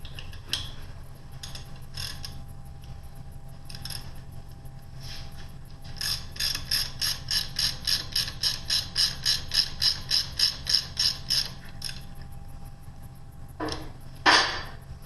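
A gear on an M-23 unit is turned by hand while it is converted from left-hand to right-hand, giving a close run of rapid, evenly spaced ratcheting clicks that builds and then stops, followed by a brief louder mechanical rasp.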